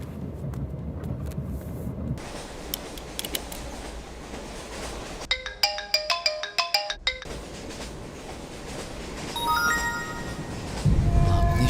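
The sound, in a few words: phone ringtone ringing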